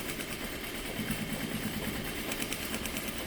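A sewing machine stitches a fabric face mask with a straight stitch, giving a steady, continuous mechanical whir that runs evenly throughout without pauses.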